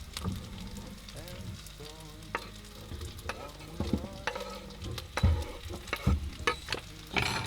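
Gnocchi and asparagus frying in a pan, a soft steady sizzle with crackling pops and occasional stirring scrapes, close but fairly quiet.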